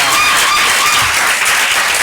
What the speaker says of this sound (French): on va applaudir pour nos deux ambassadeurs qui sont sur place